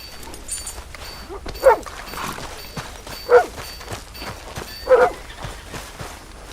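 A friendly dog in the video game Red Dead Redemption gives three loud, evenly spaced yipping barks with soft whimpers and panting between them, close and clear.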